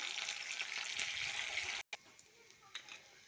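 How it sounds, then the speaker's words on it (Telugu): Dried red chillies frying in hot oil for a tomato and green chilli chutney: a close, steady crackling sizzle that cuts off abruptly, then returns as a quieter, sparser spitting with a few small pops. "గోల్డెన్ కలర్లో వచ్చే వరకు అయితే మనమైతే ఫ్రై చేసుకోవాలి"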